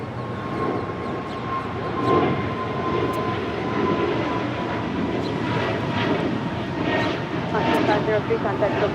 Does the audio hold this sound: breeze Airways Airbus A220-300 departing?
yes